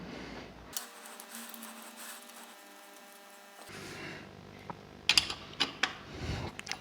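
A ratchet wrench clicks on the oil drain plug of a Yamaha XVS 1100 Drag Star motorcycle, starting with a faint mechanical hum and ending in a cluster of sharp, close ratcheting clicks.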